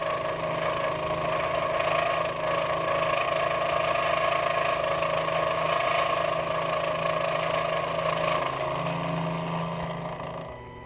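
A Proxxon FF230 milling machine makes its last one-millimeter-deep cutting pass while a vise stop is being made, a steady loud motor hum and whine running continuously before tapering off at the end.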